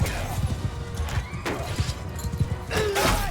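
Horses in a battle in the video game Mount & Blade II Bannerlord, with neighing and whinnying over steady hoofbeats and clashing, loud and continuous with no talking.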